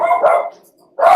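Dogs bark loudly and close up in two bursts with a short silent gap between them, sharp yips from what sounds like small dogs, with no talk.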